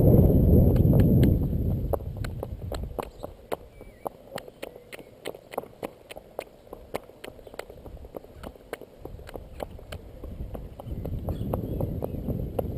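Horse hooves clip-clopping in a steady rhythm as the horse is worked around a circle, close and fairly clear over a faint background hiss, with no talking.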